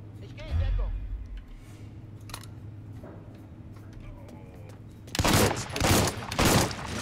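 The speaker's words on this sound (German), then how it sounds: "das waren zwei kleine Schüsse in den Sand." Faint background activity gives way to a quick burst of sharp gunshots in the video game Mafia 3 near the end, several loud cracks in rapid succession.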